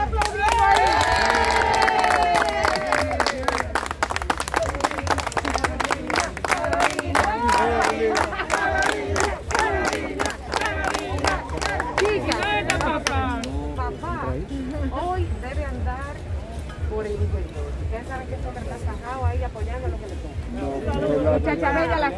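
A crowd applauds and cheers in a newly revalued public park at an outdoor event with a city mayor, rapid hand claps and shouting voices mixing with nearby speech and chatter throughout.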